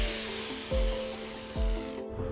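Power sander working painted aluminum to strip off the paint, a steady loud grinding whir close up that dips in pitch twice under added pressure before easing off near the end.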